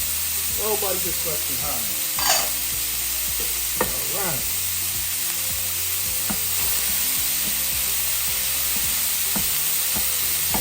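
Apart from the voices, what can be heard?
onions frying and being stirred in a pan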